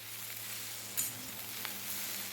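Capsicum masala frying in a pan, a faint, steady sizzle with a brief stir or clink partway through, no voices.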